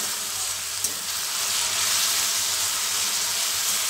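Mixed vegetables fry in salted oil for a dry sabji, a steady close sizzle that swells slightly partway through, with one small clack near the start and no voices.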